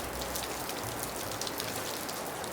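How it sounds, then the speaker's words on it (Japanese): Heavy rain pours steadily outside an old Japanese farmhouse under restoration, a dense continuous hiss of drops on surfaces with no pause, fairly close and even throughout, no voices. "ちなみに外はさっき言った通り大雨ですね。"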